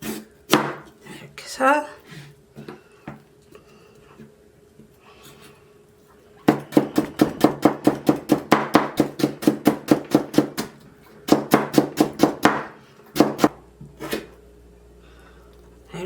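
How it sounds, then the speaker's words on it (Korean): A knife finely julienning radish on a cutting board: rapid bursts of crisp, evenly spaced chops, loud and close, separated by pauses, with a brief voice heard. "좀 가늘어야 되니까 곱게 채를 썰어 주겠습니다"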